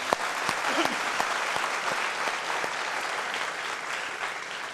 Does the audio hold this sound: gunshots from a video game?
no